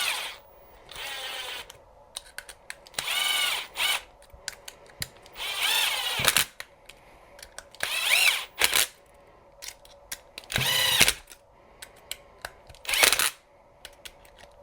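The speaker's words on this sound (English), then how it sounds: "So now I'll use the screw gun and just drive these here in." Cordless screw gun driving screws into an aluminum part of a Tekno EB48 2.2 1/8-scale electric RC buggy, with several separate bursts of whirring motor, each a second or so long, between quiet pauses.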